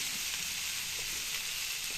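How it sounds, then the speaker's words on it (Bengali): Food frying in oil in a pan gives off a steady hiss of sizzling that lasts throughout, fairly close, with faint occasional stirring and no voices. "ভাজা ভাজা করে নিই।"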